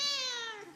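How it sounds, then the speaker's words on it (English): A 17-year-old cat gives a single clear, drawn-out meow that slides gently downward in pitch, close and moderately loud, with no talking. "I'm live here with my cat Tygon."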